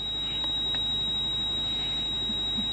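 A steady high-pitched electronic warning tone from a 170-series Toyota Crown Majesta with a 1UZ-FE engine and an ABS fault drones on without a break over a low rumbling hum.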